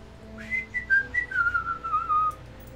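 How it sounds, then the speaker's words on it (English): A person whistles a short, wavering melody of several sliding notes, clear and close, alone without talk. "So there we've got the whistling."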